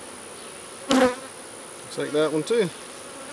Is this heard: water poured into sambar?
no